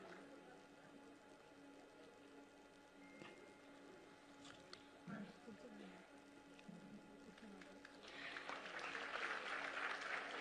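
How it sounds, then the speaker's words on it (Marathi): Applause for women guests at a Women's Day portal inauguration event starts near the end as a swelling crowd clapping, heard faintly over room noise. "जरा जोरदार टाळ्या होऊन जाऊ देत पुन्हा एकदा आपल्या सर्व उपस्थित मान्यवर महिलांसाठी"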